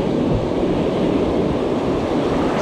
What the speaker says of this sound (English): This is big waves here.